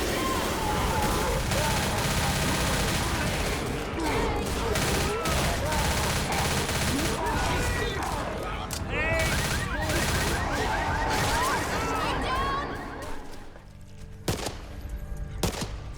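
Heavy gunfire rattles through a Left 4 Dead 2 game session, with dense overlapping bursts and fusillades that run loud and continuous and then thin out toward the end. Talking is mixed in with the shooting.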